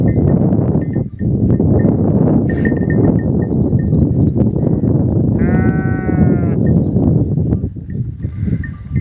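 A large flock of more than a hundred sheep and goats grazes outdoors with one herder, their overlapping bleats and shuffling forming a dense, loud, continuous wash, with one clear bleat standing out midway.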